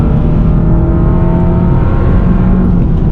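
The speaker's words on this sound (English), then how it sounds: "I'm actually a big fan of the way that intake sounds" A 7th-generation Honda Civic Si with a K-series engine gives a loud, steady, close intake drone with an even whirring hum and no voices over it.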